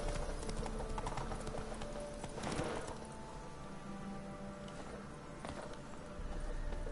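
Horse hooves in the video game The Witcher 3 clip-clop in a steady walking rhythm beneath a continuous background wash of game ambience, with occasional louder thuds.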